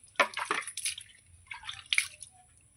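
Water splashes and drips as scaled hilsa fish is rinsed, a few close irregular wet sloshes and trickles, faint and alone.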